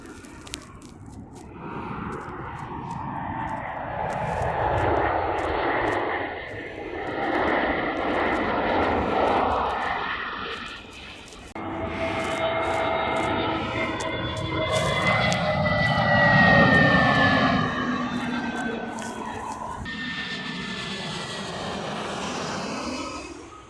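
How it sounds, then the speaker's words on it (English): Aircraft passing near Arlanda airport, several loud jet engine roars swelling and fading one after another over about twenty seconds, with a high whine rising and falling as each passes. "I saw my first few aircraft before I even got there."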